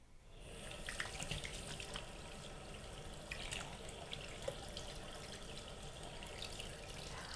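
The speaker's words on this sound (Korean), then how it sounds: "이제 다시 깨끗하게 씻고 물기를 닦아주면 돼." Hands are rinsed clean under a running faucet, a continuous splashing hiss of tap water with small drips and shifts in the flow, close by and fairly quiet, with no talking.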